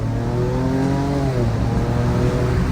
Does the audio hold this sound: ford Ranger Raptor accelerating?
yes